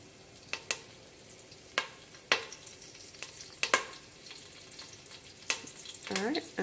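Curry leaves and cumin seeds hit hot oil in a fish curry pan, giving a steady faint sizzle broken by sharp spattering pops and crackles at irregular intervals.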